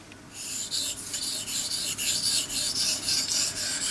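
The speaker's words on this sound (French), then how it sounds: "je vais travailler directement à l'eau claire. Donc pour vraiment polir la lame." A knife blade is polished on a Belgian blue coticule whetstone with water, giving a close, steady series of rhythmic scraping strokes, roughly three per second, with no talking.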